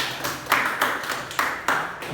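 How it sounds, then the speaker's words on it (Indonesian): A classroom group gives a short burst of applause, several quick rhythmic rounds of clapping heard close and alone. "Oke, tepuk tangan."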